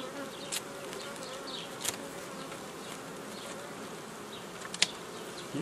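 Honeybees swarm around an open hive at an apiary while it is being worked, a steady close buzzing drone with a few louder passes of individual bees.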